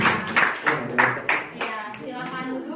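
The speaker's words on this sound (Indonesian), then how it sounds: "Tepuk tangan sekali lagi untuk kelompok" Applause from a classroom audience for a presenting student group, a short round of quick, sharp hand claps in a small room, with voices talking through and after it.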